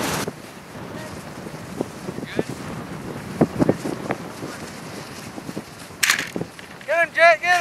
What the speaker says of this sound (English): It's blowing bad. Probably blowing, I don't know, 20, 25 miles an hour, maybe 30.